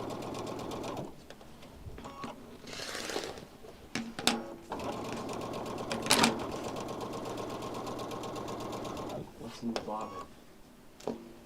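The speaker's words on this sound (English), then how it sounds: "So it's stitch in place, and then I'll just sew 1/4 inch." A sewing machine stitches a quarter-inch seam in a long steady run of fast rhythmic needle beats, opening with a few slow stitches in place, with someone talking faintly in the background.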